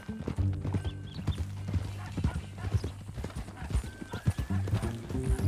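Horse hooves clip-clop in a steady walking rhythm close by in Red Dead Redemption 2, with a horse whinnying and snorting, and a voice murmuring briefly underneath.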